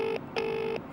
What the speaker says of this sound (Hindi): भाई रिंग तो जा रही है।